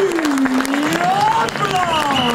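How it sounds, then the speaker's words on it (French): Crowd applause breaks out at a rally podium ceremony for a French class champion, clapping mixed with an announcer's amplified voice sweeping in pitch over it, loud and close. "Vous pouvez les applaudir! On l'applaudit!"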